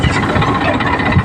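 A tractor engine runs slowly on a farm track, a steady low mechanical rumble that stays close and even throughout, with no talk over it.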